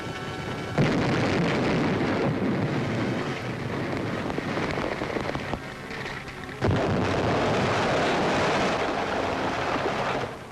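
German tanks firing in support of a WWII river crossing in May–June 1940, heard as a loud, sustained rumble of gunfire and wind-blown battle noise with a sharp heavy blast partway through; no speech.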